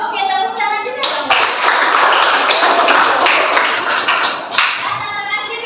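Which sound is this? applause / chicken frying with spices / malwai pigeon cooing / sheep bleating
applause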